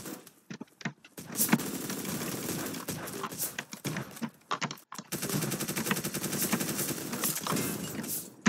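Bursts of DP28 machine gun fire in the Surviv.io video game, loud close rattling volleys broken by short gaps, then one long sustained stretch of rapid shots.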